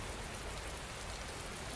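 Steady rain falls evenly in a continuous broadband hiss, soft and unbroken, with no voices or other sounds.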